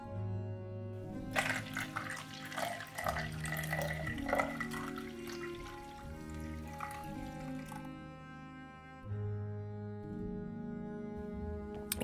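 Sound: warm water being poured for liquid culture

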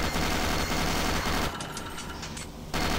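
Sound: Gatling gun firing in the video game Doom 3

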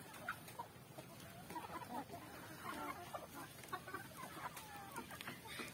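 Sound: native chickens clucking

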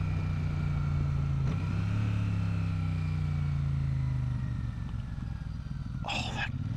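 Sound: Royal Enfield Super Meteor 650 motorcycle engine downshifting

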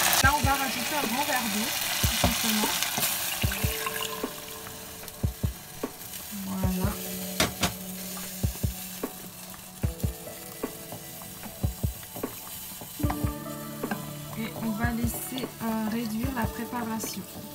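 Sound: ingredients sizzling in a pan with oyster sauce

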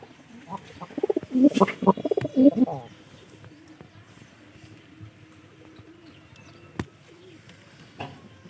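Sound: pigeons cooing

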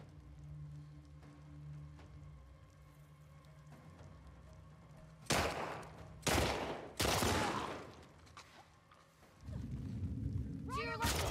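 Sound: gunfire in the video game The Last of Us Part II

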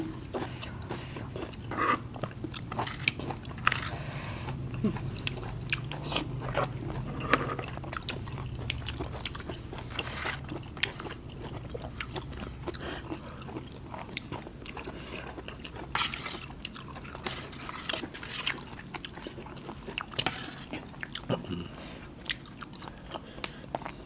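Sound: chewing and eating fresh vegetables

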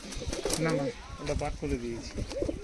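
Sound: teddy pigeons cooing

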